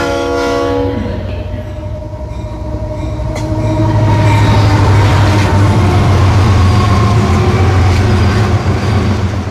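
A train rumbles loudly along the tracks as a sound effect in a Bengali radio horror story set on a late-night last train. A sustained horn blast opens it, and then a steady, heavy rolling drone carries through.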